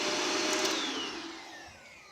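A Shark Rotator Powered Lift Away vacuum cleaner runs with a steady, close whirring hum that fades slightly toward the end, with no voices.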